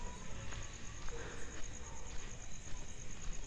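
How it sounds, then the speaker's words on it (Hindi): Crickets chirp in a thin, steady high-pitched drone through the night, faint and continuous, with light scattered noises underneath. "सुनाई दे रही झींगुर की आवाजें।"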